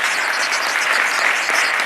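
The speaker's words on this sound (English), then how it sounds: "Let's give them a big round of applause." Audience applause at a New York governor's bill-signing announcement in Buffalo, a dense steady wash of clapping from a crowd, loud and continuous throughout.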